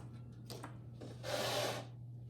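Trimming tool scraping the foot of a clay wine goblet on a potter's wheel: soft rasping strokes, the last one longer and louder, close but quiet over a low steady hum.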